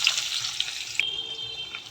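Onions dropped into hot oil with spices, a close, bright sizzling hiss with a few crisp pops that abruptly drops to a quieter, thinner sizzle partway through.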